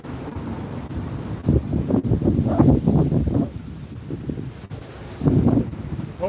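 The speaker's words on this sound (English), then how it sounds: "It's a little windy out here." Gusts of wind buffet the microphone in uneven bursts, with low rumbling thumps and a steady outdoor hiss between them.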